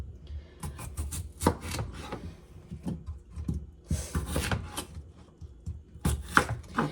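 A knife chops radishes, celery and red potato for vegetable soup on a cutting board in quick irregular strokes, with soft thuds and scraping knocks, close and alone without talking.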